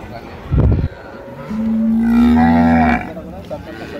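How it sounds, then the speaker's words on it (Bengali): At a cattle market in Dinajpur, a short thump is followed by a single long, loud moo from a cow, with faint crowd noise behind. "13 দিনের বাচ্চা, ষাঁড় বাচ্চা।"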